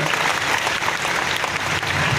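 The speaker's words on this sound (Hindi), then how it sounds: "एक बार ताली बजा करके इन बच्चों का उत्साहवर्धन करें" A crowd claps for children after a cultural performance in a dense, steady burst of applause that fills the whole moment without pause.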